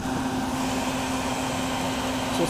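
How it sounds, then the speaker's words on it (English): Vacuum sucking yellow jackets out of a ground nest, a steady droning whine with a constant hum, close and continuous throughout. "Let the vacuum do its work."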